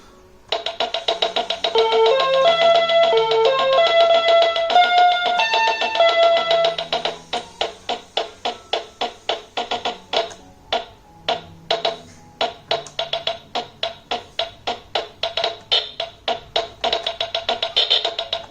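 A Bigfun BF 430A1 budget 37-key keyboard with a single speaker plays preset rock rhythm patterns. A melodic demo with a bass line gives way to a steady, clicky drum pattern that repeats for over ten seconds.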